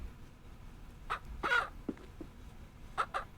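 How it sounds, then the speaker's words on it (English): Chickens and a white rooster cluck in the Ranch Simulator video game, a few short, quiet clucks and caws scattered over a low, soft background. "Oh, I do have a white rooster."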